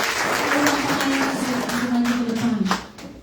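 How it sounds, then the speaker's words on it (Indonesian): Clapping from a church congregation during a worship service, a steady wash of hands with a voice calling out over it, then trailing off near the end. "Tepuk tangan bagi Tuhan Yesus Kristus."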